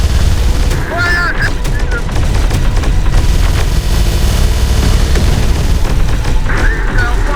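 Rapid machine-gun fire and heavy booms in Terminator: Dark Fate - Defiance, a dense, loud, continuous battle with overlapping bursts and radio-style voices talking throughout.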